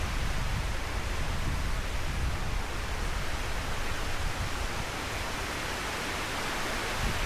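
A river rushes through a snowy landscape in a steady, broadband wash of flowing water, continuous and fairly loud with no voices.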